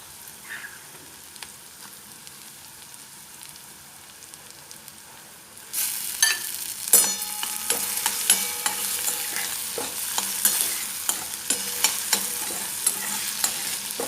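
Tomatoes drop into a hot frying pan with oil and begin to sizzle loudly, a spoon scraping and stirring in repeated strokes after a quiet start.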